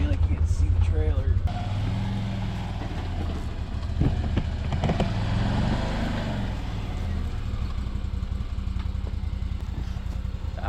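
A side-by-side engine runs steadily up close while a trailer is backed up, a continuous low rumble with brief louder bumps, and a person talks over it at the start.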